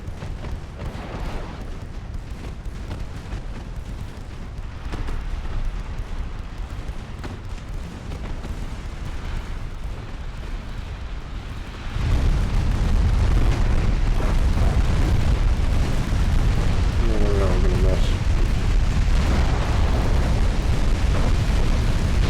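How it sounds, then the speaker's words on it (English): Heavy naval guns from two turrets firing in the Ultimate Admiral Dreadnoughts warship game, a loud sustained rumbling roar of massed salvos that swells sharply halfway through and stays booming to the end, with no talk. "That's a lot of guns fired."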